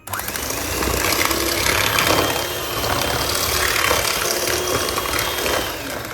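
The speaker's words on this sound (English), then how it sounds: "put the butter and sugar in and then beat it for 1 minute on setting 5" An electric mixer beating butter and sugar on setting 5 for Christmas cookies, a loud continuous motor whir with a gritty churning texture that holds for several seconds before easing slightly.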